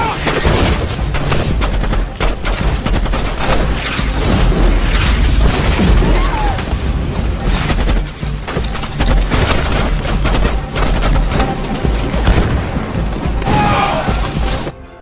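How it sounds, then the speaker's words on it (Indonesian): Heavy gunfire and RPG explosions fill a film battle scene involving Navy SEALs: dense, loud bursts of shots and deep booms overlap nearly without pause, with faint voices underneath. "pasukan Josh tiba-tiba muncul lalu menembaki mereka secara brutal. Bahkan menggunakan RPG"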